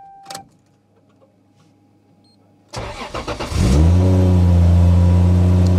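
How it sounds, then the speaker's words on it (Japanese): A 700-horsepower Toyota Supra A80 cranks and fires up after a quiet pause, then settles into a loud, steady rumbling idle with a brief rev, close to the car and with no talking. "じゃあエンジンかけてみましょう"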